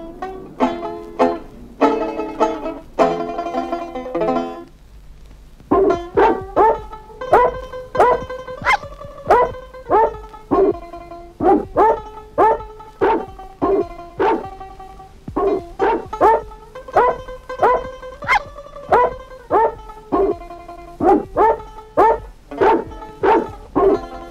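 A novelty record of dogs barking the tune of Oh Susanna: loud, rhythmic pitched barks and yips set in a musical melody, phrase after phrase, with a short gap near the start.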